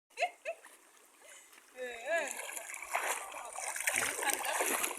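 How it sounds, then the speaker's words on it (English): A person wades across a shallow river in an African village, water splashing and sloshing under steady talking and calling voices that grow busier toward the end. "Jose is crossing the water, but she's fearing the water."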